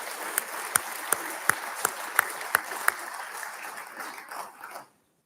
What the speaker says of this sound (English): Can I get a round of applause for these fine Milton businesses?